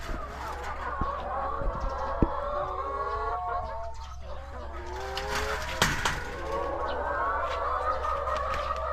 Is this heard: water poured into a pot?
no